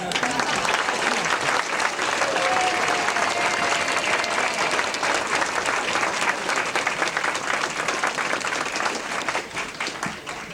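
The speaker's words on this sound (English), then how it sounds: "give her a round of applause" Sustained applause from a large audience at a retirement celebration, dense clapping throughout at steady loudness, tapering only slightly at the end.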